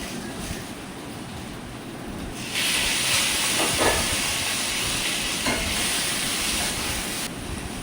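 Okra and fried potato pieces sizzle steadily in hot mustard oil with black cumin and bay leaves, a broad hiss that swells louder partway through as the vegetables hit the pan, then settles into a continuous fry.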